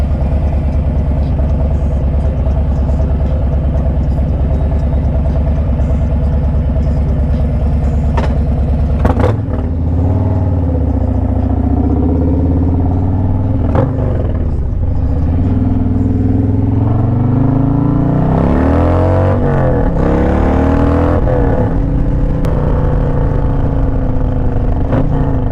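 A 2023 Harley-Davidson Road Glide ST motorcycle engine drones loud and steady while riding, with its pitch swelling and dipping through gear changes and throttle rolls, wind rushing underneath and no voices.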